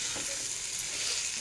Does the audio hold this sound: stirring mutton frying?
yes